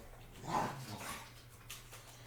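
A playful young dog gives a short bark and yip followed by soft whimpering, fairly quiet and close in an indoor room, with no talking.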